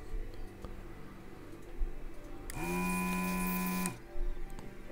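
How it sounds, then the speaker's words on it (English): A vacuum desoldering tool pulls solder from a PLL chip on a Superstar 360FM radio, a sudden loud whirring buzz lasting about a second and a half, then cutting off, set against a quiet background with faint ticks. "my vacuum desoldering tool makes short work of this as always."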